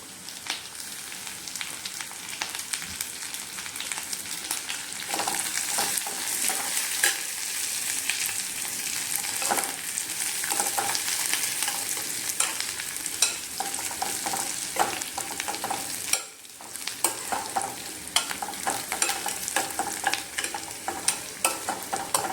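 Onions fry in a pan with a loud, continuous sizzle and crackle, broken by frequent stirring clicks and a brief dip partway through.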